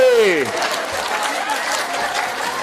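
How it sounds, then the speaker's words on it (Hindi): Loud audience clapping during a group clapping game at an event, a steady wash of applause with a voice briefly audible at the start. "जोर से ताली बजाओ, जोर से"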